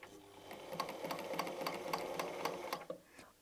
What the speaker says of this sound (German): und wir nähen einmal unsere ganze Naht entlang